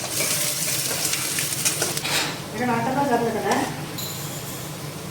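Chopped big onions frying in a pan, with a steady sizzle and occasional stirring and utensil scrapes, a voice talking briefly over the cooking.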